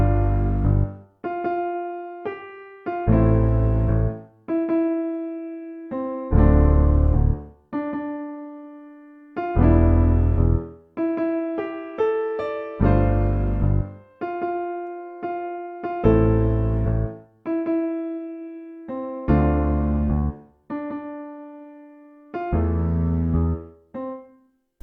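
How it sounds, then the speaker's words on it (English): An orchestral R&B sample built on staccato piano chords and a clipped bass line, the short punchy notes repeating in a steady loop across the whole stretch with no voices. "I actually changed up the rhythm of the piano by playing it in a staccato rhythm, same with the bass"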